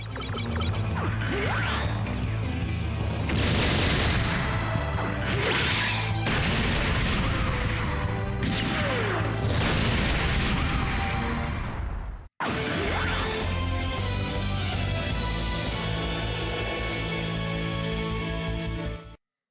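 Shield bombs exploding in the MS Saga video game: a dense barrage of crashing blasts, whooshes and impact hits over game music, loud and continuous, cut by a brief silent break midway before the clatter resumes.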